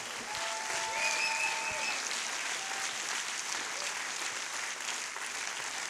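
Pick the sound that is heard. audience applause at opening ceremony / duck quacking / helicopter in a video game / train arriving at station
audience applause at opening ceremony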